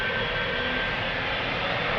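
KLM Boeing 777-200 jet departing Amsterdam Schiphol for Bogota, a steady heavy engine roar with a faint high whine, close and continuous, without speech.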